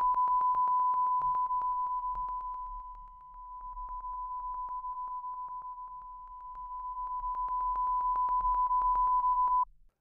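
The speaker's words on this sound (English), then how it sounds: "notice how the sound level drops more rapidly as the angle between the microphone and the sound source" Steady sine test tone used to show a microphone's polar pattern, loud at first, dipping in level around the third second, partly recovering, dipping again, then swelling back before cutting off abruptly; no voice.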